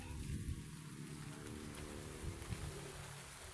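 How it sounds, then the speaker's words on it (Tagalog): Rain falls steadily around a small hut on a plot of farmland, a soft continuous hiss with low patter and no speech. "umuulan na naman"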